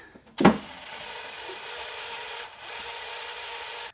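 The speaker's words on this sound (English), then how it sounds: "we take our cordless drill, we slip it on there in the slowest mode, and we just start rotating" A sharp knock followed by a steady, low mechanical whirring as a cordless drill on its slowest setting turns a small-block V8's oil pump, running on evenly, briefly dipping once before continuing.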